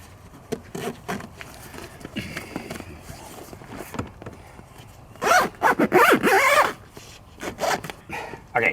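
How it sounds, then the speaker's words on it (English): A zipper on a Jeep JK soft top being drawn closed in several quick rasping pulls, loud and close, with bursts of handling noise between strokes. "So you're always going to zip it starting from this side."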